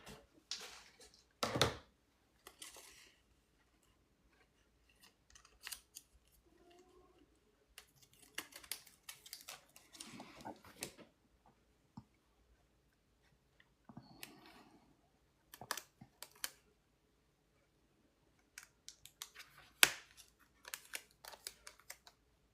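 Scissors cutting paper pieces for a journal, scattered soft snips and rustles in short bursts with long quiet gaps, close and faint.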